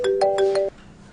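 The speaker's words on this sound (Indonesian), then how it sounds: "aku ada telepon" A loud melodic phone ringtone plays a quick four-note chiming phrase up close, then cuts off abruptly into near silence.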